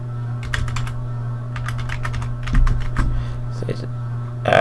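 A password is typed on a computer keyboard in short bursts of clicky keystrokes separated by pauses, with a low steady hum underneath and a few brief bumps near the end.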